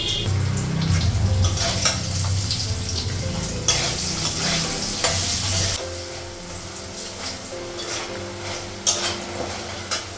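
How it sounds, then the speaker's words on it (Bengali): Lentil dumplings (bori) sizzle continuously while frying in a pan. Frequent metallic stirring and scraping accompany them, loud and close throughout, with no voices. "বড়িগুলো ভাজা হয়ে গেছে"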